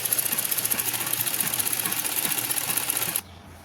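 A sewing machine stitches a salwar seam with a steady, rapid mechanical rattle that runs evenly for about three seconds and then cuts off, leaving a quiet hum.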